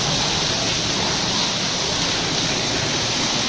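Water gushes steadily and loudly from a newly bored well near Rajkot, a dense unbroken rushing roar with no pauses and no voices.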